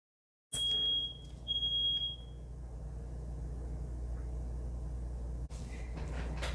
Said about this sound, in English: and the smoke alarm just went off